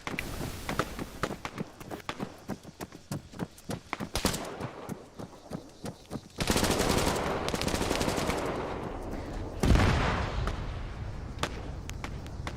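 Bursts of rapid automatic gunfire crackle through an Arma 3 firefight, with dense volleys around the middle and a heavy sustained stretch of shooting toward the end.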